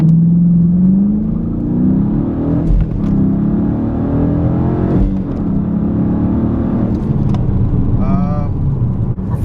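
A car with a newly fitted K&N air filter accelerates hard with some tire spin, its engine droning loudly and steadily throughout, rising in pitch, with a brief whine near the end.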